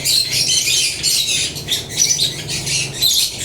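Pet birds in a cage at a bird shop squawk and chirp loudly and almost without pause, shrill calls stacking over a low, steady hum.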